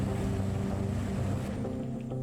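A boat in the Vietnam-era Arma 3 game passes by with a steady low engine rumble over washing water and wind, loud and constant, fading slightly toward the end with no talk.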